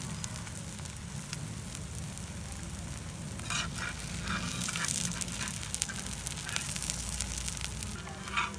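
A paratha fries in ghee on a pan over a low flame, giving a steady soft sizzle with scattered crackles and pops that grow a little busier midway; no one speaks.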